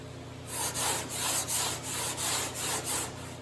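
Hand sanding the body of a 1965 Chevy C10 truck with 80 grit flexible sandpaper, a rhythmic back-and-forth rasping of about eight even strokes, close and steady with no talking.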